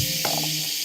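A voice imitates the hiss of bug spray aimed at a curtain crawling with roaches, a short breathy burst at close range lasting well under a second.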